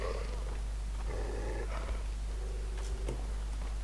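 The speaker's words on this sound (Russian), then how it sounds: "Где-то собака." A dog growls in the video game Far Cry 3, a low rumbling snarl rising in short bursts over steady background hum, fairly faint and alone without speech.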